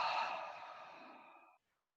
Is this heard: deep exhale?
yes